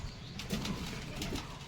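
Soft cooing of a pigeon drawn in while stray dogs are being fed, low and faint, a few brief coos over quiet outdoor background.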